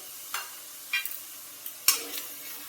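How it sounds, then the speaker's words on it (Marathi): Semolina roasting in ghee in a pan, a soft low sizzle broken by a few brief spatula scrapes and stirs at irregular intervals. "रवा भाजून घेऊया तुपामध्ये छान मस्त"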